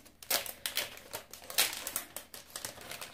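A plastic shopping bag crinkles as it is handled, giving quiet, irregular bursts of rustling and crackling close up, with no one speaking.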